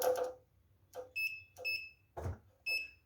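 Steady electronic beeps from a clamp meter set to continuity mode while testing the terminals of a non-inverter AC compressor, four short tones at an even pace after a burst of nearby talk.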